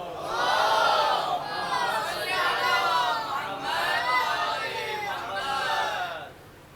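A large congregation at a Safar majlis loudly recites salawat together, a dense chorus of many voices swelling in four long waves and then stopping.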